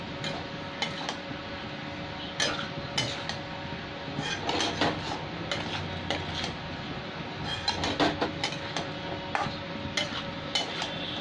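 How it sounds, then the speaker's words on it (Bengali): A utensil stirs mixed vegetables with drumstick stalks and mustard paste in a pan, giving repeated scraping clinks and taps against the metal at an uneven rhythm, close and fairly quiet. "এইবার ভালো করে আমি নেড়ে দিচ্ছি।"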